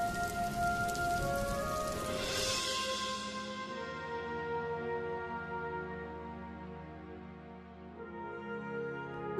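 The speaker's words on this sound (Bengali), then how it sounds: "এই তুমি বলতে না বলতে দেখো কেমন শুরু হয়ে গেছে। যা, গাটা সব ভিজেই গেল।" Heavy cartoon rain, a dense hiss of drops pouring down that thins and fades into quieter dripping over several seconds.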